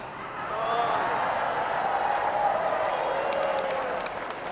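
Audience applause during a humorous Indonesian sermon, a steady wash of clapping that holds for several seconds with faint voices mixed in underneath.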